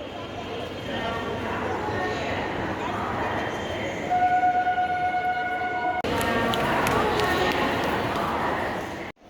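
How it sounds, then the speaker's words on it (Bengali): Local trains pull out of a platform at a busy Kolkata railway station, a steady rumble under crowd chatter, with a sustained horn tone in the middle and a sharp shift in noise partway through. "সামনের প্ল্যাটফর্ম থেকে একে একে লোকাল ট্রেনগুলো ছেড়ে বেরিয়ে যাচ্ছে"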